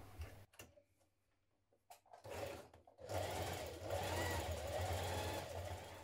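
A sewing machine top stitching down the edges of denim jeans, with short bursts early on, then a steady, loud continuous run of stitching from about three seconds, close by.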